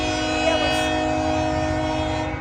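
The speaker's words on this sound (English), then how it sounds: "so we'll see how many trains we can capture coming by" A steady, sustained train sound with a strong tonal horn-like drone over low rumbling, holding at a constant level.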